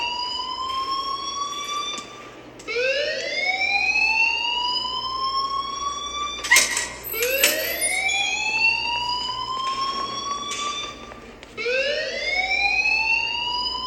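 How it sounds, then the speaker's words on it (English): A fire alarm in the game Life Is Strange wails in repeated rising electronic sweeps, loud and continuous, with brief overlapping tones and a few sharp clicks midway. "please turn off that alarm since that's your job"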